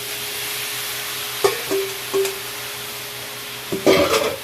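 Cabbage stir-fried in a pan with onion, garlic and tomato: a steady sizzle with a few sharp spatula clanks and scrapes against the pan, no one talking.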